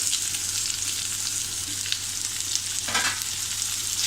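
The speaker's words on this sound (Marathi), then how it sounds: "आता याच्यामध्ये आपण टॅमॅटो टाकूया." Tomatoes frying with onions in a pan, cooked for a dry pea curry: a steady, close sizzle runs throughout, with a brief scraping stir near the end.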